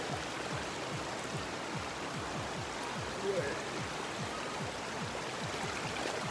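Steady rushing river water flows continuously on the Bolaven Plateau in Laos, a soft broadband wash with faint splashing, fairly distant and unbroken throughout.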